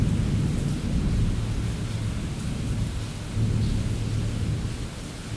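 Loud, close thunder from a lightning strike meters away rumbles deeply and continuously over a heavy wash of falling rain, swelling again partway through.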